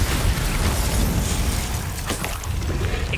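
Glacius spell cast in Hogwarts Legacy, a dense, roaring burst of magical energy that swells and sustains across the clip, with brief crackling flickers near the end.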